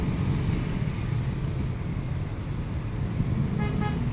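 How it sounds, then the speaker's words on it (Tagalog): A car horn honks at an SUV amid road traffic, a toot standing out over the steady rumble of nearby engines and roadway noise, with a few short honks toward the end. "Binusunahan talaga siya ng todo."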